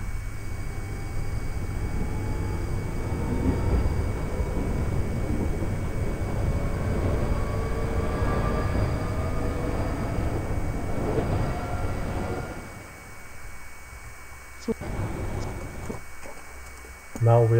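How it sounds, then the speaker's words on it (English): A London Underground Northern Line train heading for Kennington via Charing Cross pulls away, with a loud, sustained rumble and rising whine of motors that fades, then a quieter pause and a sharp clatter at the end. "This is a Northern Line train via Charing Cross, terminating at Kennington. This train is about to depart."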